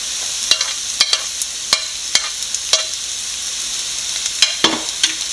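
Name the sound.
sautéing onion, ginger, garlic and green chilli in a pan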